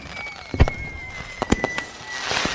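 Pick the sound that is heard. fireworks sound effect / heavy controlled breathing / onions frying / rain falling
fireworks sound effect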